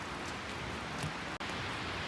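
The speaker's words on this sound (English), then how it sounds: "It's raining." Steady rain falls outdoors during a storm, a dense even hiss holding at one level for about two seconds with one sudden brief dropout, and no voices heard.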